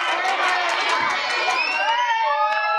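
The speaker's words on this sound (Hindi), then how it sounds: "अजी हमें तो बस आपकी तालियों का शोर अच्छा लगता है।" A school crowd at a Republic Day celebration, mostly children, erupts in loud, sustained cheering and high-pitched shouting that gradually fades.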